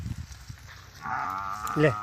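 Buffaloes being herded home by a cowherd in a village pasture, with soft rustling and faint low sounds before one animal lets out a long, loud, close bellow that swells near the end.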